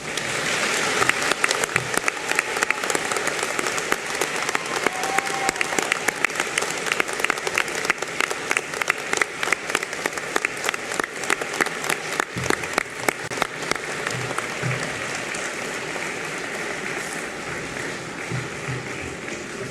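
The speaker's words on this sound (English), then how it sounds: "turn to face your guests and offer them a heartfelt round of applause" Graduates at a university graduation ceremony in Australia turn and applaud their guests, a long, loud, sustained round of clapping from a large hall crowd that gradually thins and fades near the end.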